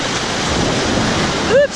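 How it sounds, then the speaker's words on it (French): Wave pool at a water park, the Baie des Pirates, starting up, a loud steady wash of churning water and surf-like roar filling the space, with a brief high whistle-like tone near the end. "Ça se réveille! Voilà les vagues!"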